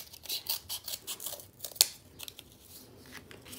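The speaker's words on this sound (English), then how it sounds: "I'm using my big sharp scissors because the cardboard is a little tricky to cut." Scissors snipping through cardboard at close range, in a series of quick, crisp cuts with one sharper snap near the middle, then quieter trailing snips.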